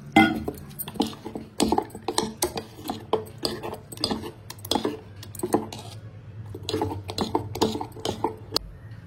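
A spoon stirs cucumber dosa batter in a bowl, giving a quick, uneven run of wet slaps and scrapes against the container, close and fairly soft, with no talk.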